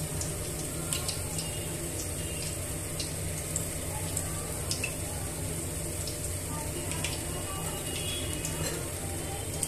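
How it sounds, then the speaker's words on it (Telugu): Spinach leaves dipped in batter deep-fry as pakora in hot oil, giving a steady, close, hissing sizzle with faint crackles throughout. "ఇలా పిండిలో ముంచి డీప్ ఫ్రై చేసుకోవాలి."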